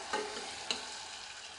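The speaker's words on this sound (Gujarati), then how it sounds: "ટમેટા પણ એકદમ સારી રીતે સાંતળી લેવાના" Chopped tomatoes sauté in oil inside a pressure cooker with a faint, steady sizzle and two quick scraping stirs, close by and without voices.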